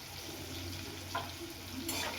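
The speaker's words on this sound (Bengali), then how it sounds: "আলুটা ভেজে নেব।" Potatoes seasoned with turmeric and salt fry in a pan with a steady, even sizzle and one or two faint scrapes of stirring.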